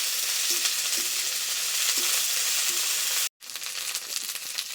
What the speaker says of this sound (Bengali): সবকিছু নেড়ে চেড়ে মিশিয়ে নিয়েছি